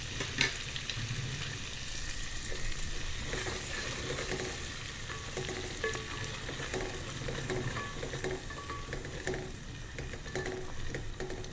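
A paste of spices and ground peanut fries in a pan while being stirred, giving a steady close sizzle with scraping and clinking from the spoon, continuous and unbroken with no talking.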